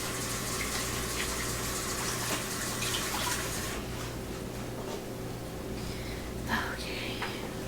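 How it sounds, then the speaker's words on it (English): A kitchen tap runs steadily while hands are rinsed under it, a constant close rush of water that changes tone partway through as the hands move in the stream. "I'm going to rinse off my hands."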